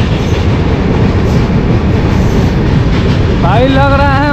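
Indian passenger express running alongside an overtaking freight train, a loud, steady close-up rumble of wheels and carriages with rhythmic clatter, and a wavering squeal or horn-like tone rising near the end.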